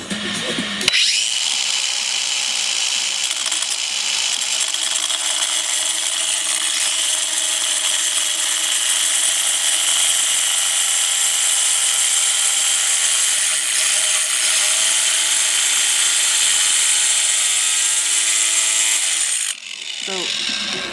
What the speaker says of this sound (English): the thing about these angle grinders is they have a weight to them, and even just the lightest pressure is enough to cut the tile